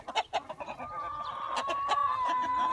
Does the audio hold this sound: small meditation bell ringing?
no